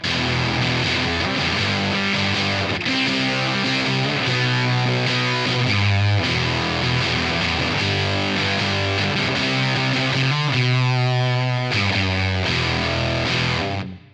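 An electric guitar played through a Superfuzz pedal rings out sustained, heavily distorted notes and chords, loud and upfront with a hint of reverb.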